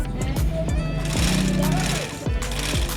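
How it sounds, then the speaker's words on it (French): Sewing machine stitching the fabric cover for a foam cushion, a rhythmic mechanical chatter of the needle running steadily up close, with a person talking over it. "c'est l'habillage que je suis en train de coudre"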